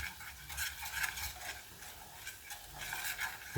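Chili, turmeric and fenugreek sizzle and crackle in hot oil for South Indian mango pickle. A soft, steady fry hiss swells and eases with stirring, close up and without talk.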